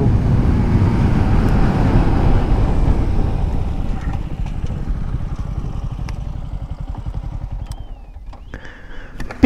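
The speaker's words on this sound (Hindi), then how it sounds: "पिकअप काफ़ी अच्छी ली थी यार बाइक ने, आगे से ऐसे उठ के फिर चली थी बाइक यामा" A KTM Duke 200 and a Yamaha MT15 launch in a drag race, their engines giving a loud, steady rumbling roar that slowly fades as the bikes pull away, with strong wind buffeting the microphone throughout.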